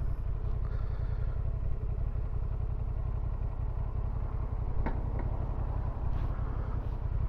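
A Honda Transalp 750 motorcycle is ridden in first gear, its engine throbbing steadily and loud with a dense, even low rumble throughout, joined by faint rattles and no talk.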